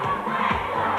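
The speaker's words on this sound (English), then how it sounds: "Yeah, loads of cheering going on." A crowd cheers and shouts loudly in support of the Blues team, a dense roar of many voices in one short burst.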